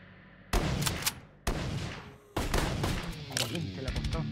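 Three loud shotgun blasts in a video game, each about a second apart with a booming tail, followed by scattered further gunfire while someone talks over it.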